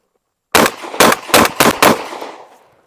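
Five loud shotgun blasts from a Sulun Arms SPAS-12 firing buckshot in semi-auto, spaced roughly a third to half a second apart, each sharp report followed by a fading echo trailing off after the last shot.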